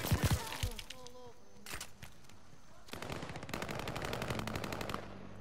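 Rapid automatic gunfire in a video game, dense bursts of sharp shots rattling at a steady fast rhythm, with a short opening volley, a pause, then a longer continuous stream, fairly close and loud.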